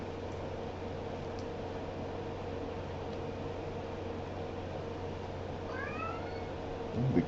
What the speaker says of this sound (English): I'm not sure if her meowing is being picked up on this microphone